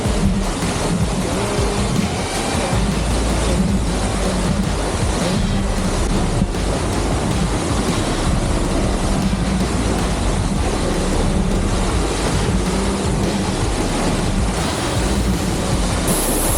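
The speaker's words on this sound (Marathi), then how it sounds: "हा साडेतीनशे फुटाचा शीतकड्याचा धबधबा तुम्हाला छोटा दिसत असेल" The 350-foot Shitkada waterfall pours down in a constant, loud, full roar of rushing water that holds steady from start to finish, with no voices.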